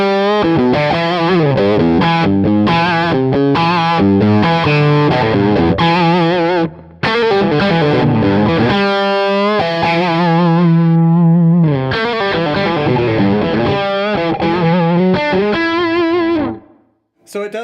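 Electric guitar through a Beetronics Overhive overdrive pedal set to its looser up position, thick distorted chords and riffs ringing loud and close, with a brief break near the middle and a sudden cutoff at the end.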